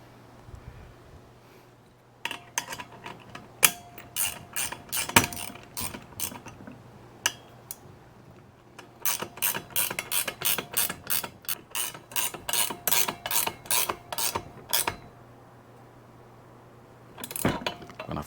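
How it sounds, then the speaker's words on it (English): A hand ratchet tightens 14 mm bolts on a solar street light mounting bracket, giving close, crisp clicking in repeated bursts of quick strokes separated by brief pauses. "I'm going to tighten these down. I'm going to use 14 millimeter."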